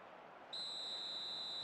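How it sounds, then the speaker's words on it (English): A referee's half-time whistle in an eFootball match sounds as one long, steady, shrill blast that cuts in sharply and holds to the end, with no talk over it. "And there is the half-time whistle."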